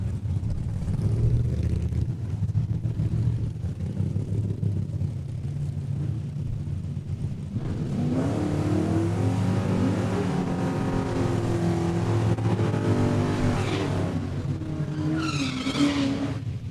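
Drag race cars at Saskatchewan International Raceway in Saskatoon launch from the line with a loud, continuous engine roar that climbs in pitch as they accelerate down the strip, with a second surge of revving joining partway through.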